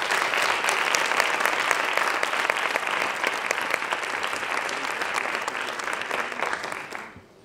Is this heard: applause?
yes